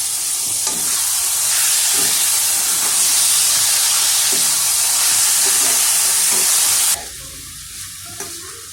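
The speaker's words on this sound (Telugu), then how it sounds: "రొయ్య పొట్టు వేసేసాను బాగా కలిసేలా తిప్పుకోవాలి" Raw prawns and onions stir-fry in a pan with a loud, close, steady hiss and sizzle, with stirring underneath, until the sound drops away abruptly near the end, leaving near quiet.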